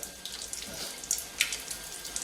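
Water flows from a Kangen K8 water machine, a soft steady splashing with small bright spatters and drips, quiet and alone.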